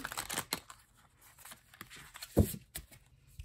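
A thin-cardstock tarot deck riffling and falling loosely between the hands, with a few sharp card slaps amid soft papery shuffles, close and fairly quiet.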